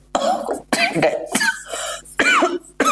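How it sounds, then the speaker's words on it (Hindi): Several harsh coughs from a person with a cough lasting over a month, close and loud, come in quick separate bursts with short pauses between them during a math lesson. "खांसी जा ही नहीं रही मेरी एक डेढ़ महीने से"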